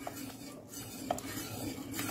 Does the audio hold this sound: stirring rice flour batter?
yes